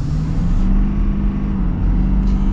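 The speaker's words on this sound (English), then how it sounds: "It's very fast for a diesel pickup truck." A 500-horsepower diesel pickup truck accelerates hard, its engine a loud, sustained low roar with a steady drone close by, heard alone without talk.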